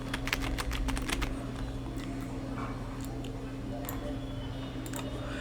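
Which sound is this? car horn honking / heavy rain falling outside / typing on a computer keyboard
typing on a computer keyboard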